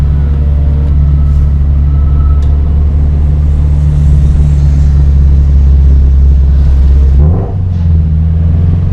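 Toyota 86 fitted with a DC Sports cat-back exhaust driving through a downtown area, a loud, steady low exhaust drone that holds throughout with a brief dip and shift near the end, no talking.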